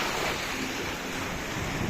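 Sea waves wash onto an Italian beach in a brief, steady hiss of surf mixed with wind rushing across the microphone, fairly loud and continuous with no distinct breaks.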